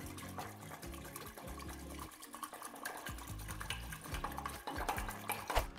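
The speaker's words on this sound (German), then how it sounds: "Jetzt löse ich die Hefe im Wasser auf." Yeast being stirred into water in a bowl for pinsa dough, with a spoon scraping and clinking in repeated strokes, quiet and close, with faint watery swishing.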